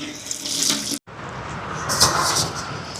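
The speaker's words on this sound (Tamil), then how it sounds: "இப்போ எங்களோட உலைக்கு தேவையான அளவுக்கு தண்ணி எடுப்போம்." Water gushes loudly from a tap into a cooking pot, stops for a split second, then runs again in a strong, steady flow close by.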